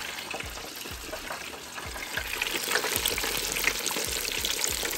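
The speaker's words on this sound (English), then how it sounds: "chicken are in the fryer" Steady crackling sizzle of chicken thighs and legs deep frying in hot oil, continuous and close, with occasional bubbling bursts and no voices.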